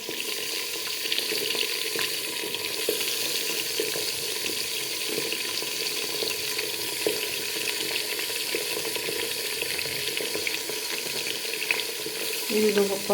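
Constant crackling sizzle of eggplant and spices frying in a pan, close and steady, with a brief clatter near the end.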